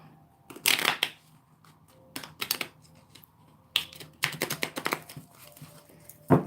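Tarot cards are shuffled by hand in several quick, crisp bursts of riffling and flicking, separated by short quiet pauses, close up and with no voices.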